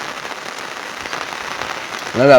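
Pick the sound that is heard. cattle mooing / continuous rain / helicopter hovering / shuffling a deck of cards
continuous rain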